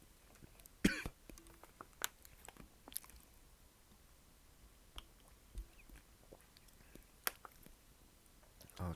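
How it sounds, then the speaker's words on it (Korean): A man gives a few sharp coughs at intervals over faint background noise, with small clicks and mouth sounds in between. "자꾸 기침이 나와서"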